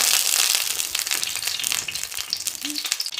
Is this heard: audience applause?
no